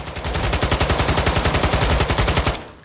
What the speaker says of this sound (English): So it's going to be a faster firing, smaller caliber weapon compared to the 104.